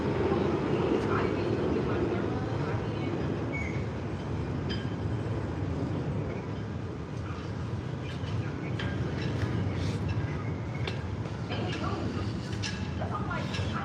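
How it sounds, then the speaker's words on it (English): Airplane passing overhead in Miami, a broad roaring wash that swells and lingers for several seconds as it flies by. "Let the airplane go by."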